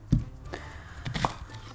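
Knife strikes chopping onion and garlic on a cutting board in a home kitchen, a few sharp, close taps spaced irregularly with quiet gaps between them.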